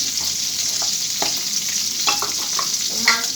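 Fish, store-bought taki, frying in hot oil seasoned with salt and turmeric, a steady loud sizzle with a few light stirring scrapes, no voices.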